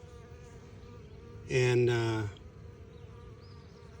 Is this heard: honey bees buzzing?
yes